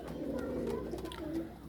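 Pigeons kept for sale in Faisalabad give soft, low, rolling coos close by, repeating through the short moment over a faint background hum.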